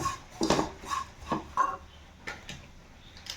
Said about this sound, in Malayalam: പച്ചമണം മാറണ വരെ ഒന്ന് നന്നായിട്ടൊന്ന് ഇളക്കി കൊടുക്കും